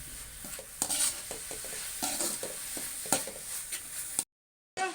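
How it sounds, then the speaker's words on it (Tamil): Ginger garlic paste sautéed with cloves and cinnamon in a pan for Indian-style egg macaroni: a steady sizzle with repeated scraping stir strokes, close and continuous, then a brief silence before the sizzling resumes. No one speaks. "இப்போ வந்து 1 ஸ்பூனு இஞ்சி பூண்டு பேஸ்ட்டு இதில் சேர்த்துக்கிறேன்."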